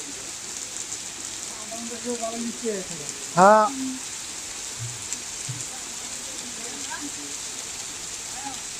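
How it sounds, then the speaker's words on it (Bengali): Steady rain pours down during a hot season, making a constant broadband hiss throughout, with a short voice and a brief chirping sound cutting through near the middle. "এইরকম বৃষ্টি"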